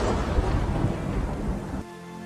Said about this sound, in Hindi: तभी जोर से बिजली कड़कती है।